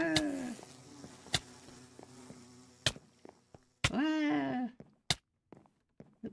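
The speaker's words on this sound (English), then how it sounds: "bees are taking over the house" Bees buzzing in Minecraft, the whining drone swelling briefly between sharp clicks and pops from the game, all fairly close with no voices.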